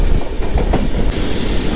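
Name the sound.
Navajivan express train slowing to a stop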